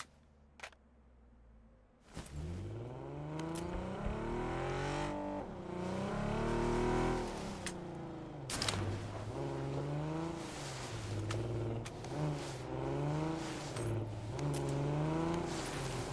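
A car in the battle royale game PUBG starts up with a click, then drives with an engine that revs up and down in repeated surges, loud and near, with sharp clicks along the way and no voices.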